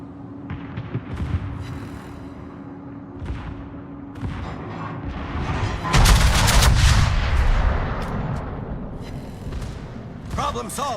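Naval gunfire in World of Warships: heavy cannon salvos and rumbling blasts, loudest in a big sustained barrage midway, with game voice callouts and someone talking throughout.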